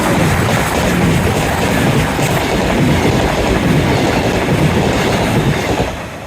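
A train rumbles along the tracks beside the seawall in Plymouth, a loud, steady, noisy roar of wheels and wagons that fills the whole stretch before easing off at the very end.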